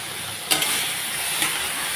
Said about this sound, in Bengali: দিয়ে দিলাম পেস্ট করা সরষা।